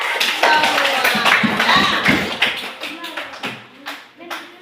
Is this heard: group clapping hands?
yes